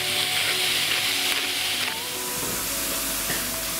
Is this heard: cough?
no